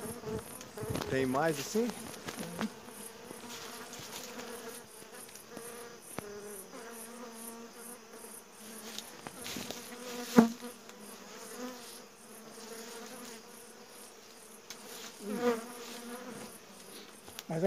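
Many honey bees buzzing around opened hives during a honey harvest: a dense, wavering drone that swells and fades close by, with people talking briefly over it.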